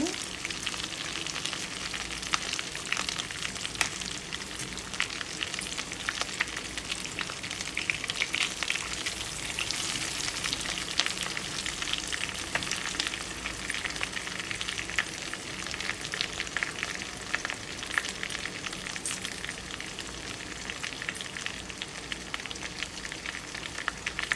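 KFC-style chicken leg pieces fry in hot oil, a dense, continuous sizzle with constant crackling pops that holds steady throughout.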